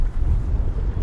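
Steady low wind rumble buffeting a microphone outdoors on the water during a walleye fishing trip from a boat, continuous and fairly loud with no talk.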